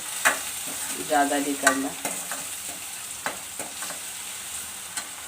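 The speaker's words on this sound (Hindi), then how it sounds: "चलिए अब डाल देते हैं इसमें टमाटर, फ्राई कर लेते हैं इनको हल्का सा" Tomatoes lightly frying and being stirred in a pan, with a steady sizzle broken by several scraping stirs near the start, while a voice speaks briefly under the cooking.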